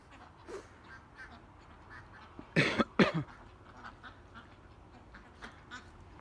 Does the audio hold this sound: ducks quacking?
yes